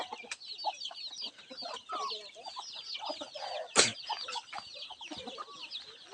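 Palawan native hens cluck and chatter in a rural yard, a busy mix of overlapping clucks and chicks' peeping at close range, with one sharp loud burst midway.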